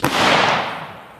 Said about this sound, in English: And when the same combustion happens in closed space, we get an explosion.